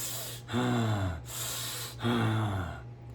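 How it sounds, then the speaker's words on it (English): Two slow, breathy ujjayi-breathing exhales through a constricted throat, each a soft hissing rush with a low hum, separated by quiet inhales. "I combine that with Ujjayi breathing, which there's an actual sound for your exhale."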